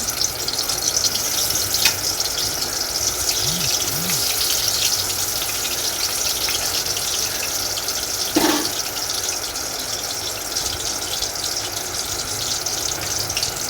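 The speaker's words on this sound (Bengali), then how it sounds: "পটল ভাজি হয়ে গেছে তুলে নিলাম তারপরে ভাজি" Vegetables, likely eggplant, frying in oil after pointed gourd, a steady moderate sizzle with watery crackle and a couple of brief clinks, no speech.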